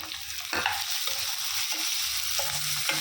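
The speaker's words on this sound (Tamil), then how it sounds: "நல்லா வதக்கிக்கலாம்." Steady sizzling of tomatoes and onions sautéing in a pan with a few scraping stirs of a spoon, close and continuous, no voices.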